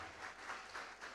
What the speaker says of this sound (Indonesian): Jangan ragu-ragu tepuk tangan untuk Tuhan.